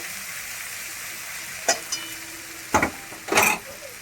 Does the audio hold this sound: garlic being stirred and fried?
yes